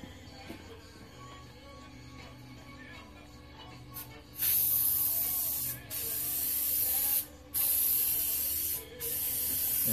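Spray adhesive hissing from a can onto a board and headliner during a 2001 Dodge Grand Caravan headliner replacement, in several loud bursts with short pauses after a quieter start.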